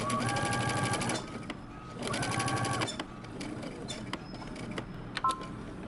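A home sewing machine runs two bursts of stitching while sewing a row of basting stitches on a button-up shirt, with a pause between them and quieter clicks and handling noise afterward.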